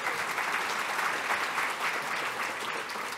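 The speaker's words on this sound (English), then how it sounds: "So we can leave all the claps now" An audience claps loudly and steadily through a talk on the gender debate, a dense, sustained wash of applause with no pauses and no voices over it.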